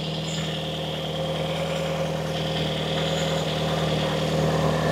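A Toyota Corolla 4WD engine, warming up after sitting parked for 16 years, idles smoothly and evenly, a constant low hum with a faint mechanical whine and a slight exhaust blow running throughout.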